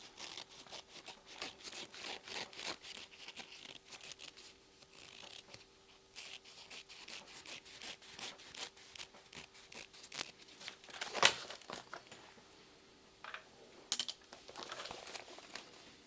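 Scissors trimming uneven fabric for a messenger bag, with a rapid run of close, quiet snips and crinkly rustling of cloth, plus a few louder cuts near the end.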